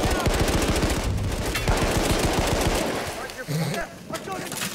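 A machine gun firing in Battlefield 1, loud rapid steady bursts for about three seconds that then give way to scattered distant shots, with a player's voice audible around the firing.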